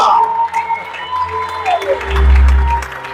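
A church congregation claps and cheers together during a service, the applause mixed with sustained tones and a swell of loud, booming low rumble toward the end.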